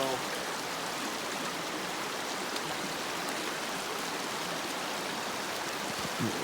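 Someone wades through a cold creek on the Sheltowee Trace in Kentucky, with a steady close rush of flowing water filling the whole stretch and no distinct splashes standing out.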